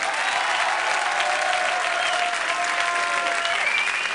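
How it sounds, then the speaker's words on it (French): An audience claps for the rescuers after an avalanche, a loud, even, continuous round of applause from a sizable crowd, steady from start to finish with no voices over it. "les sauveteurs, on les applaudit encore plus fort"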